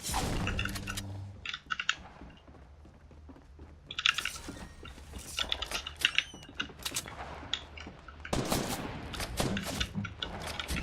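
Video game gunfire during a tournament match sounds as rapid bursts of sharp, clattering shots in clusters over a busy game soundscape, with one loud volley near the end.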